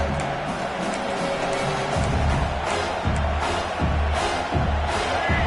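A football stadium crowd roars behind the defense on a big third down at a South Carolina–Clemson game, a loud, continuous wash of cheering and noise that swells in repeated surges.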